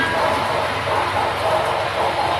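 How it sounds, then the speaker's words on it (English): A passenger train rolls past as a continuous broad rumble and rushing roar, loud and close, with no break. "There goes the passenger train"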